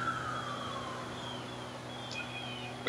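Police car sirens passing by outdoors, a faint wailing tone that sweeps down in pitch and drifts off, heard behind a low steady hum with no talking.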